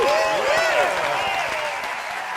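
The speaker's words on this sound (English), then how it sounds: "Oh, just stand up and clap, Bob." An audience applauds loudly as a standing ovation, a dense wash of clapping that stays strong throughout and fades only slightly, with a voice speaking over it.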